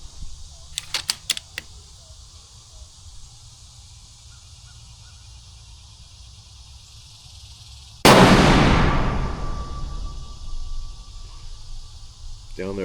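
A single loud rifle shot fired at a target, a sharp blast with a long rumbling tail, preceded by a few faint clicks and followed by a lingering high ring.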